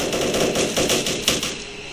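Rapid machine-gun fire rattles loudly and continuously from an F22 fighter jet in a flight combat video game, a dense burst of shots with no voices over it.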